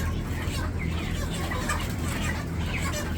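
Broiler chickens clucking in a controlled shed at about 34 days old, a dense, steady crowd of overlapping clucks and murmurs close by, with no clear talk over it.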